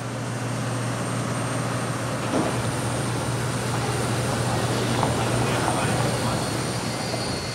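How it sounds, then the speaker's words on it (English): An airliner on the Bristol Airport apron preparing to depart for Mahon, giving a steady, loud engine hum and drone throughout with a low tonal rumble, no talk. "Britannia flight BY006 to Mahon is finally preparing to get underway."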